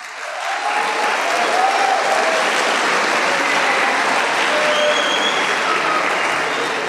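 A large crowd applauds engineering students with steady, dense clapping that swells in quickly and holds evenly at full strength, with no voices standing out.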